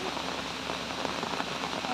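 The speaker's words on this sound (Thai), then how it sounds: "นี่ฝนตกแล้วทุกคน" Rain falls steadily at home in the garden where limes are grown, a dense, even hiss of drops on surfaces close by, with no clear voice over it.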